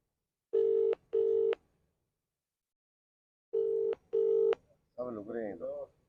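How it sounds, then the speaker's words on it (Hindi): Telephone ringback tones while calling a local junior engineer about waterlogged roads: two pairs of steady electronic rings separated by a pause, followed by a brief recorded voice message. "इनकी घंटी जा रही है"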